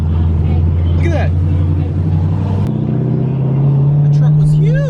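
Big truck at a truck-week car show rolls past close by with a deep, loud engine rumble that shifts pitch midway, while people talk excitedly over it.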